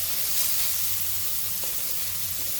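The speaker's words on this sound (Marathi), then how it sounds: "आपण कांदा भाजून घेऊया." Salted onion fries over a high gas flame in a pan, giving a steady, even sizzling hiss with no voices.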